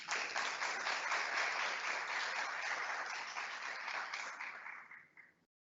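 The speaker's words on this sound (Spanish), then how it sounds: "para quien solicitamos un fuerte aplauso" Applause for a book author at a formal legal book presentation: steady, even clapping from an audience, moderately close, holding for several seconds before quickly tapering off and stopping.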